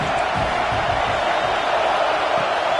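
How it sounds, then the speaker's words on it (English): A home crowd roars loudly at an Ole Miss versus Washington football game, a dense and sustained wall of cheering that stays steady throughout, with faint voices underneath. "how nice is it to have the home crowd going absolutely bananas?"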